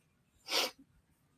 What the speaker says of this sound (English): I'm just going to sneeze for 8 days now